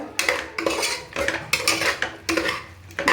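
Freshly cut button mushrooms tumbling into a cooking pot for mushroom biryani, a series of close clattering knocks and scrapes of utensils against metal repeating every half second or so.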